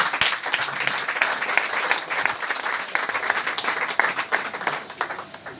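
A church congregation bursts into steady, dense applause, loud and continuous, with scattered cheers mixed into the clapping throughout.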